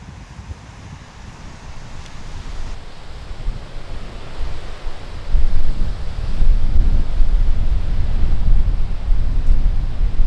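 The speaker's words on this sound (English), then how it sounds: "it's super windy" Strong late-October cold-front wind in open Kansas country roars and buffets the microphone, growing louder and more turbulent partway through, with no voices.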